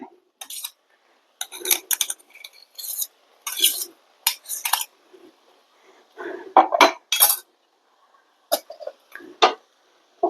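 Boiled cassava mashed with crushed green chilli in a vessel, with irregular bursts of clinking and scraping as a utensil presses and knocks against the container, separated by short silences.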